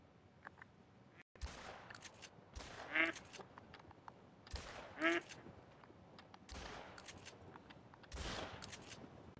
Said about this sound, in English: hunting ducks or any other birds with a shotgun